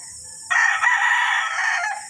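A single loud rooster crow rings out close by, sustained for over a second after a quiet start.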